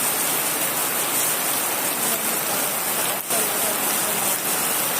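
Dense, loud rainfall pouring steadily on a surface, a constant close hiss with no letup.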